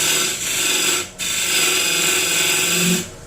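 A boring tool cuts into wood spinning on a lathe, making a steady, close scraping hiss that dips briefly once and then continues before tailing off near the end.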